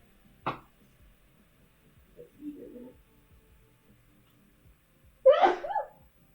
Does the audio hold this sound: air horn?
no